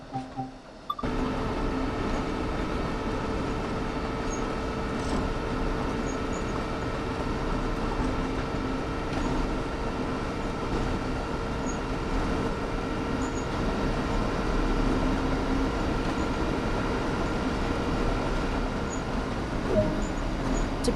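Locomotive in Train Sim World running at a steady pace with its master controller at idle: a continuous mid-level rumble with sustained tonal hum, no speech, holding evenly throughout.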